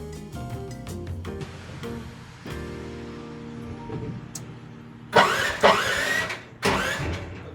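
A mini dumper's engine cranks with a steady mechanical whir, then catches in several loud bursts before settling into a close, rough idle.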